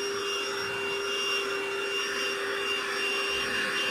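A Lidl cordless Hoover vacuum cleaner runs over carpet near the edge, giving a steady, close, continuous motor whine and airy suction roar with no pauses.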